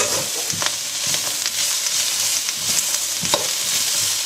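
Chorizo fries in a hot pan with a steady loud sizzle, broken by a few sharp scrapes and knocks of a utensil stirring it, close and without talk.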